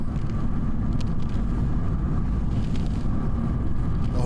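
Motorcycles pass along a cold, wintry road, a dense rumbling engine roar mixed with heavy wind buffeting, loud and continuous throughout.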